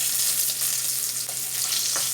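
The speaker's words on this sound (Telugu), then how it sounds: "ఎల్లిపాయలు వేసుకోవాలి దంచుకొని పోపులో." Crushed garlic dropped into hot oil for tempering, alongside dried red chillies, cumin and mustard seeds, sizzling in a steady, dense crackle with a few brighter pops, close and loud throughout with no talking.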